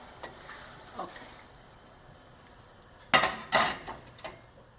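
A metal lid clanks down onto a pot of boiling escarole soup with two loud, close clatters and a smaller clink, after a few faint kitchen taps.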